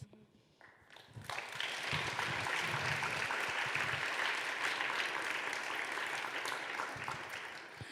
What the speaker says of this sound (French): vous applaudissez à chaque fois